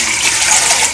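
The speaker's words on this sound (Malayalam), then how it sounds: "അപ്പം അതിനൊരു 2 ലിറ്റർ വെള്ളം വെക്കുന്നുണ്ട്" Two litres of water poured into a pot to steam chicken for chicken mandi, a brief, steady, loud gush of liquid lasting about a second.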